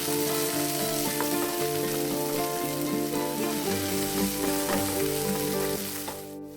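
Crushed spices, a bay leaf and green peas fry steadily in ghee, a continuous close sizzle with faint background tones that tapers off at the very end.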